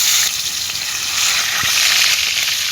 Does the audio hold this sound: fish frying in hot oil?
yes